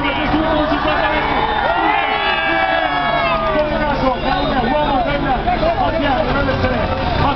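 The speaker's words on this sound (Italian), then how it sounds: "io vi chiedo l'applauso per questi ultimi 50 metri" Roadside crowd noise at a cycling sprint finish in Pescara during the Giro d'Italia, a continuous roar of cheering and babble with whoops, mixed with vehicle engine sound and a commentator talking over it.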